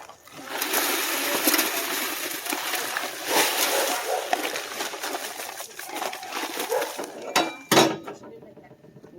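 Water splashes and sloshes while concrete is mixed outdoors for a septic repair, a loud close rush of wet spattering and scraping that runs continuously, with a sharp knock near the end.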